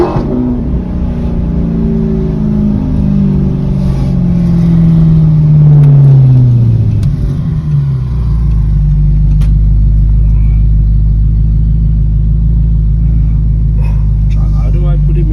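Straight-piped Audi R8 engine revving hard close by, a loud rising and falling roar that drops into a steady deep idle rumble, with talk underneath.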